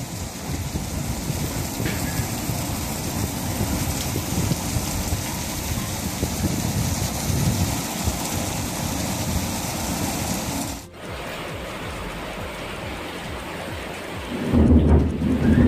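Heavy downpour with thunder flooding town streets, a dense, loud, continuous roar of rain that briefly drops out, then returns with a low rumble of thunder near the end.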